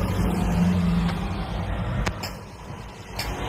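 Steady road traffic rumbles close by, a continuous wash of passing cars and trucks with low engine drone and a few sharper transient knocks, no voices on top.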